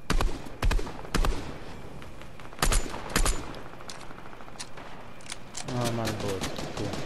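SMG fire in Fortnite comes in short, sharp bursts of rapid shots, scattered across the clip against game background noise, with a player talking between them.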